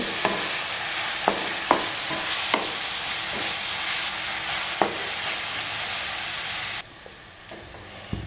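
Onions frying in oil for a green bean stir-fry, sizzling with a steady hiss while a spoon scrapes and taps the pan several times at irregular intervals; the sizzle drops noticeably quieter near the end, close and clear with no talking.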